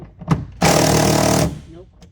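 An air impact gun fires on a bolt inside a car's interior, a single loud rattling burst lasting just under a second, close up, with brief quiet handling noise before and after.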